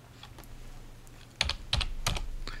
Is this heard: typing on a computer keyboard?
yes